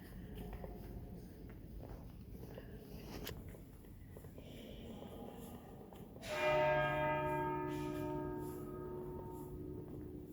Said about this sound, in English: Nice, just in time to hear the bell ring.